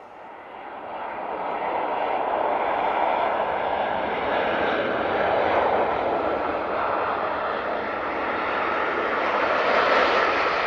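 A Virgin Atlantic airliner arriving at Manchester Airport, its engine roar building from the start into a steady, loud broadband rush that stays strong to the end, with no talking over it.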